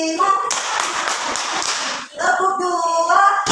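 A classroom of students claps hands together in a counting game, several bursts of sharp, loud claps in quick groups, with a teacher's voice calling out over them.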